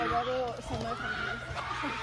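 A horse whinnies up close, a rising and falling neigh, with a person talking over it.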